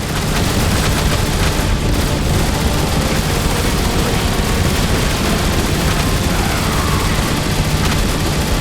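Dense, loud battle gunfire aimed at a Decepticon warship in Transformers: War for Cybertron, continuous rattling bursts and booms merged into a roaring wall of noise throughout.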